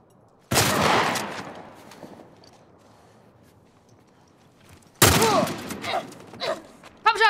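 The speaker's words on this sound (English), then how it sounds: "Pump shotgun." A pump shotgun fires twice in The Last of Us, each a loud, close blast with a decaying echo, several seconds apart, followed by mechanical clatter and faint game noise.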